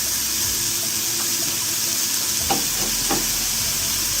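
Apples with sugar, cinnamon and salt sautéing in a pan, a steady close sizzle with a few scraping stir strokes partway through; no talking.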